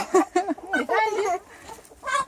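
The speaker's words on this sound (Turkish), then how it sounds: "Horoz nasıl kızıyor bak." An angry farmyard rooster lets out a burst of loud, close clucks and squawks in short rapid bursts over a couple of seconds, mixed with nearby talk.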